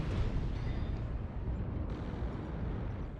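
Missile impacts blasting around a mech in MechWarrior Online, a continuous heavy rumble of close, loud explosions with no clear gaps between hits over a few seconds.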